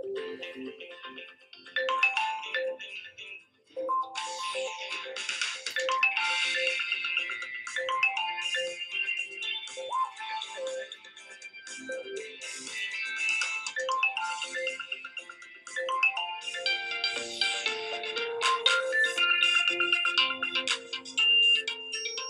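A melodic phone ringtone plays steadily through a small speaker, bright chiming tones looping for over twenty seconds with no talking.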